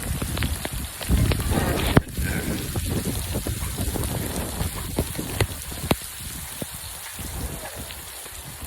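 Heavy rain in a Punjab village, a dense close patter of drops striking surfaces with occasional louder splats and knocks, steady throughout, with faint background voices.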